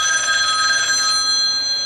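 A telephone bell rings steadily and continuously at close range, a bright trilling tone with no voices present.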